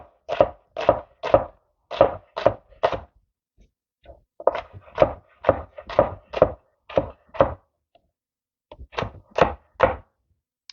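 A knife chops through red onion on a cutting board in quick rhythmic bursts of close, sharp thunks, pausing briefly between runs.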